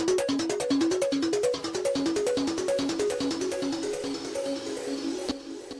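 Layered synth pluck in an FL Studio beat, a rapid repeating melodic pattern of bright short notes in steady rhythm with light delay tails, clear and upfront with no talking.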